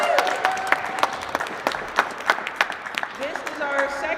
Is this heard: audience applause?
yes